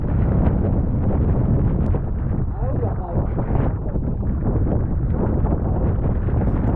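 Melges 15 sailing dinghy racing in a frostbite series, a steady wash of wind and water rushing loudly and close throughout, with no clear voices.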